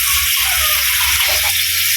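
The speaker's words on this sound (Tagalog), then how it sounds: "lagyan ko ng konting tubig" A small pour of water goes into a pan of boneless chicken adobo, a steady loud splashing gush that cuts off abruptly at the end.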